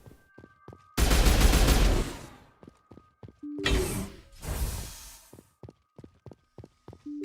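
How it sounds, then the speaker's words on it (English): Rapid pistol fire in Mass Effect 1 Legendary Edition, two loud bursts of shots over a steady ticking background, with quieter clicks and steps between them and no talking. "I think my pistol is actually, yeah, probably best to deal with those. Fast firing,"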